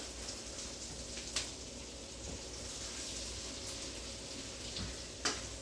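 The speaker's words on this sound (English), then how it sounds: "You want the mushrooms golden brown. Of course, you want the onions cooked right." Mushrooms and onions sautéing in a skillet for beef stroganoff, giving a steady low sizzle and crackle throughout with a couple of brief sharp clicks, fairly faint and without talk.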